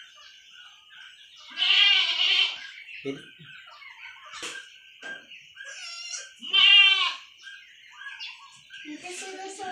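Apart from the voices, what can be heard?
young goat bleating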